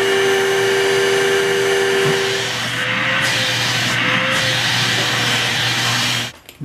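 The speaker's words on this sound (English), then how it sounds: "Some of them are really scared of the vacuum." A vacuum cleaner runs loud and close in a steady roar with a whining tone that dips and shifts partway through, then cuts off abruptly near the end; nobody speaks.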